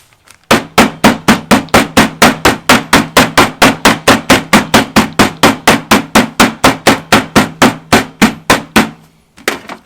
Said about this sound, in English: We're going to start this off here by just pounding out the pork.